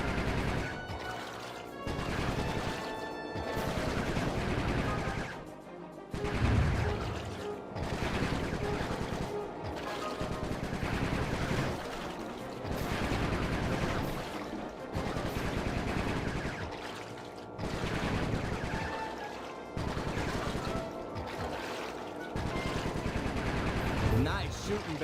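Bentley's shooting in Sly 3 comes as repeated loud bursts of rapid gunfire separated by short pauses over about twenty-five seconds, layered with busy game sounds and background music.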